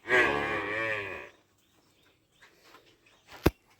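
A loud, drawn-out low moo from a Jafarabadi water buffalo lasting about a second, followed by near quiet with faint rustles and one sharp knock, on a dairy farm.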